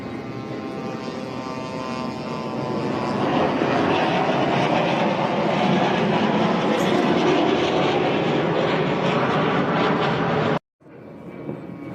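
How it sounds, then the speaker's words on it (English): Israeli warplanes roar overhead in a war zone, a loud continuous jet rumble swelling and holding before abruptly cutting out near the end. "we can also hear those Israeli warplanes flying over this person recording as well"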